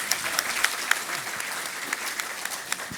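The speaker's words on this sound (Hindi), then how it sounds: "एक बार जोरदार तालियों से सीता जी को।" An audience at a Hindi kavi sammelan poetry gathering claps vigorously, a dense, sustained burst of applause that fills the whole moment without pause.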